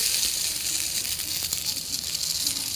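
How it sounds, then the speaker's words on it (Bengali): Olives stirred and sautéed in a pan for a Bengali olive chutney give a steady close sizzle with light scraping, continuous and alone. "এখন জলপাইগুলো নাড়াচাড়া করে একটু কষিয়ে নিচ্ছি"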